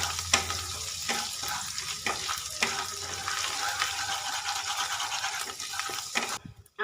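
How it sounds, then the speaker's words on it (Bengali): Ginger frying in hot oil while a spatula scrapes and stirs it around the pan, a continuous close sizzle with rhythmic scraping strokes, trailing off abruptly at the end. "এবার আমি আদাটার কাঁচা গন্ধ যাওয়া পর্যন্ত একটু নেড়ে নেব।"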